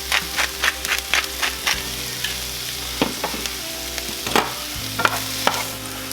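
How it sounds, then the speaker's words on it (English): Chicken fajita vegetables and onions sauté in a skillet with a close, lively sizzle and fry, joined by intermittent clanks and scrapes of a utensil stirring the pan, with no talking. "We're gonna let these saute a bit"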